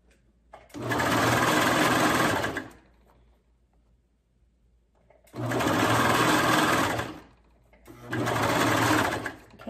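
Serger sewing an elastic hem with a zigzag stitch, running in three loud bursts with a steady rapid whir, separated by short quiet pauses.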